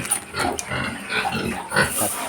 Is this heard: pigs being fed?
yes